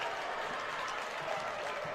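A Lions basketball home crowd cheers and applauds after Devin Franklin's right-handed dunk. The roar and clapping run steadily through the whole stretch, fairly distant and moderately loud.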